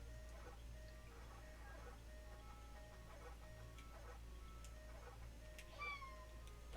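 A pet cat meows repeatedly while being petted, a string of short, fairly close mews over a steady low hum, with a higher, drawn-out cry near the end.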